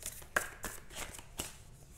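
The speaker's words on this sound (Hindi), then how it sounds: "let me just pull some more cards for you, some guidance for you from this Moonology deck" A Moonology oracle card deck being shuffled and drawn, giving quiet, close flicks and soft riffling snaps in a brief, faint burst.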